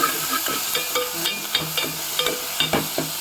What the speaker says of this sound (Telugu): కొంచెం కరివేపాకు వేసుకుని వేగుతుందండి.